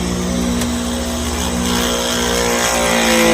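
A steady, loud electric pressure washer motor hum with a constant drone and faint high hiss, running continuously without pause and rising slightly at the end.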